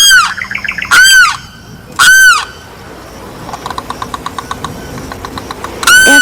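Small birds that nest woven high on a papyrus stalk give a run of sharp, bright chirps and squawks. Loud calls burst out at intervals, and quick rhythmic ticking notes fill the gaps, all close to the listener.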